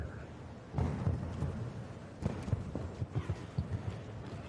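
Horse hooves clip-clopping on an arena surface at a show jumping competition, a run of soft, fairly close thuds in uneven rhythm with a few sharper strikes, over low background ambience.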